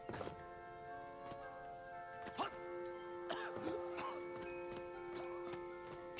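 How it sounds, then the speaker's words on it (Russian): A character in the video game Little Orpheus gives several short, rough coughs scattered over steady tonal game music. The coughs are fairly faint and spaced irregularly. "Что-то кашляет."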